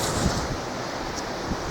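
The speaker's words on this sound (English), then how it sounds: "Yep, we're even getting wind right now." Wind blows at a beach as a steady, broadband rush with microphone buffeting, heard up close and fairly loud for a short stretch with no talking.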